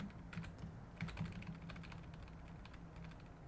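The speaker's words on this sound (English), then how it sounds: "I think I will be faster off just typing it out" Rapid clicking of keys on a computer keyboard, close and fairly quiet, in uneven bursts of keystrokes over a faint background hum.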